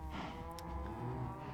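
Cows in the Minecraft video game give a single low moo, fairly close and heard alone.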